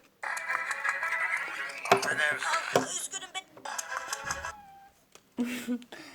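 A voice imitates a cat's meow amid a noisy mix of other sounds and talk, with a brief pause before a final short burst.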